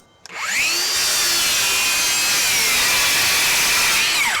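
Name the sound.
DeWalt Flexvolt circular saw cutting MDF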